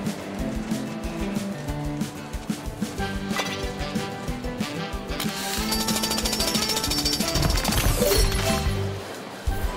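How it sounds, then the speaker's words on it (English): In a PAW Patrol Mighty Pups video game, a harsh, rapid mechanical drill clears rock, clattering over busy game music and building louder with crunching impacts toward the end. "Use Rubble's drill to clear the rock away."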